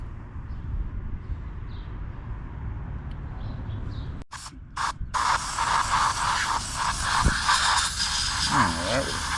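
Cleaning solution is sprayed onto a Ford Mustang engine during maintenance: after a quiet stretch come a few sharp spray bursts, then a loud, continuous hissing spray close by.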